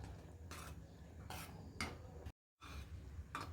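Thick sago, vermicelli and almond gum payasam is stirred in a pot, with several scraping, rubbing strokes and a short gap of silence midway; no voices.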